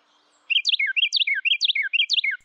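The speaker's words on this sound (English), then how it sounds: "It is only the male Carolina Wren who sings, with his loud and clear twittering" A loud, clear song of a male Carolina wren: rapid whistled phrases repeated four times in quick rhythm, close and alone against silence.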